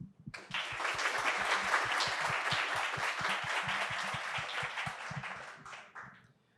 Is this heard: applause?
yes